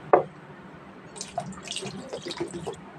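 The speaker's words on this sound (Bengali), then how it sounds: "এইবার আমি অল্প একটু পানি দিয়ে দিব।" A small amount of water is added to bottle gourd dal, with a sharp splash at the start followed by quieter intermittent drips and trickles close by.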